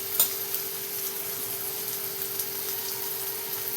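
Onion fries in oil with red chili masala and turmeric, giving a continuous close sizzle and crackle with a faint steady hum beneath. A sharp stir-scrape comes at the start.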